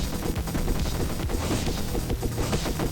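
Rapid, dense gunfire pours out at a boss in the NeuroVoider video game, a loud, continuous volley of overlapping shots and crashes.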